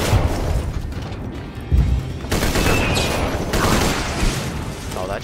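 Continuous game gunfire in Borderlands 2, dense bursts and booms running throughout at a steady loud level, with a brief heavier thump near the middle.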